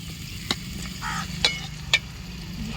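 Eggplant pieces frying in oil in a pan for a fish curry, a steady low sizzle with a few sharp clicks of a spoon or spatula against the pan, no voices.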